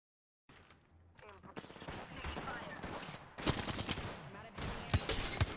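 Bursts of rapid gunfire in Apex Legends, with dense crackling volleys that build in loudness and punch harder near the end, mixed with other battle noise.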